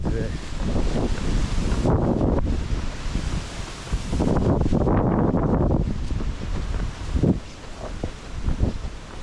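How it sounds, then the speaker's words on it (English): Strong, steady wind gusts on a forest hiking trail in the Porcupine Mountains of Michigan's Upper Peninsula in fall, roaring close to the microphone with buffeting and rustling, easing briefly then rising again. "Very windy today."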